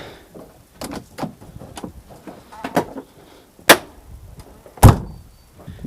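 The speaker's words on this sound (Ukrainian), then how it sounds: "Ці двері треба бахкати чомусь." A series of sharp knocks and clatters ends in a couple of loud, hard slams of the sliding side door of a 1996 Fiat Ducato van, recorded up close.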